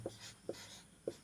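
Pen strokes on paper during a reasoning class, three short scratchy marks spaced about half a second apart, close and fairly quiet, with no talk over them.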